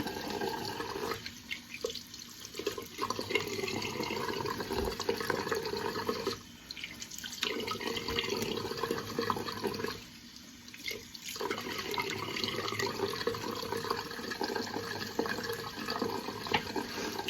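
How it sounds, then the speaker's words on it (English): Running water from a bathroom tap pours steadily as soap is rinsed off after shaving, the flow broken by three brief dips where hands or a razor pass through, fairly quiet with no talk. "And rinse all this stuff off, all the soap."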